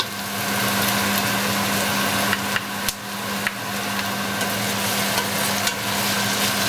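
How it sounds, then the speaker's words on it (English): Onions, garlic and pepper fry in a pan and are stirred, giving a steady loud sizzle with a few scraping knocks from the utensil against the pan, close by and without talk. "And give that a nice stir."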